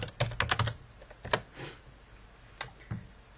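Keystrokes on a computer keyboard while entering a software command: a quick burst of several clicks, then a few scattered single taps, close and fairly quiet with no speech.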